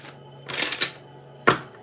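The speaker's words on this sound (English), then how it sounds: "One more shuffle for Marie." Oracle cards being shuffled nearby, with a few soft riffling bursts and one sharp card snap after a short pause, fairly quiet and with no talking.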